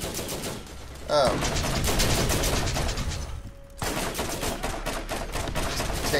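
Rapid automatic gunfire from the video game Borderlands rattles loudly and almost continuously, with a brief pause midway before resuming; a voice briefly exclaims over it.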